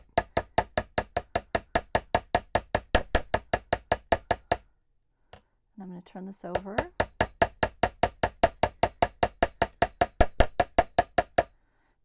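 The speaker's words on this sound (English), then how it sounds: "I'm trying to hammer evenly over the whole surface here on the front" A metal hammer strikes wire loop earrings laid on a hard surface, flattening the wire in a fast, steady run of sharp, evenly spaced taps. The hammering breaks off briefly while a person speaks and turns the piece over, then resumes at the same pace.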